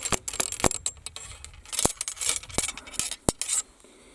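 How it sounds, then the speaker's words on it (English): A paper wad is tamped down the barrel of an M1766 Charleville musket, producing a close series of sharp, irregular metallic clicks and short scrapes with quiet pauses between them and no talking. "So tamp that down in there, because you have to kind of squeeze that paper together to form a wad."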